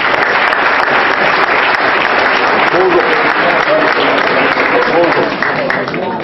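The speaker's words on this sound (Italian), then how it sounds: "quindi facciamo un applauso" Dense, sustained applause from a crowd at a Christmas dinner, loud and close, with voices chattering and calling out beneath the clapping, which fades slightly at the very end.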